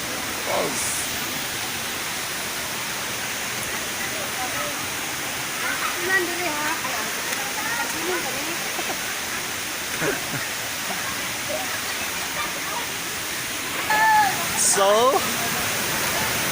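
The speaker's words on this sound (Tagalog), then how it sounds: "So dito ang falls." Pangyan Falls in Davao Oriental, a steady broadband rush of falling water that holds constant throughout, with brief voices and small noises breaking in near the end.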